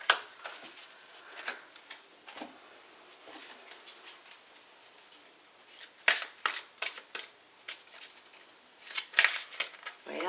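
New tarot cards being shuffled, repeated riffling bursts and soft patters, close and fairly quiet, with faint speech in places.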